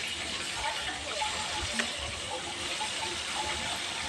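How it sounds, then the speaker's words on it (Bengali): Pieces of rohu fish fry in oil in a pan with a steady, even hiss and sizzle. The sound is close and continuous, with no voices. "তো আমি আর এক পাশে ভেজে নেব। তো আমি একটু কড়া টাইপের মাছগুলো ভেজে নিয়েছি,"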